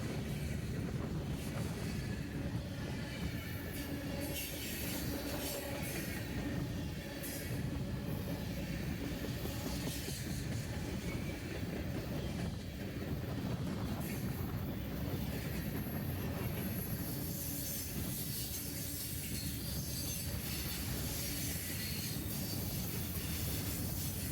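A Norfolk Southern freight train sits cut down in a rail yard, giving off a steady broad rumble with faint metallic clanks and squeals, continuous and moderately distant for the full stretch.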